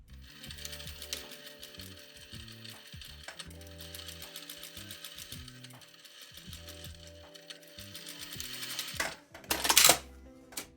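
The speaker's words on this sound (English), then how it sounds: "bring them over to our sewing machine and sew the short edges together" A sewing machine runs in short bursts of rapid mechanical stitching, sewing the short edges of a skirt waistband, pausing between runs, with a sharp clatter near the end.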